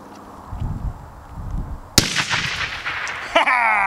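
After a quiet stretch, a can cannon fires a grenade with a sharp, loud blast, and a second smaller bang follows about a second and a half later.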